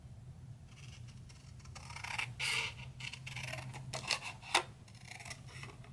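Scissors cutting through card paper, with soft scattered snips and rasping slices at close range and a couple of sharper cuts near the end, against a quiet background.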